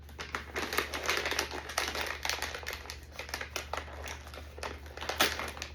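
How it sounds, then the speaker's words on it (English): A resealable Walmart-brand snack package, brittle inside, being tugged open with close, busy plastic crinkling and crackling in quick irregular bursts over a low steady hum. "I cannot get this resealable package to ever open the way I want it to."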